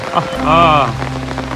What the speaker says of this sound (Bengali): করুণ বৃষ্টি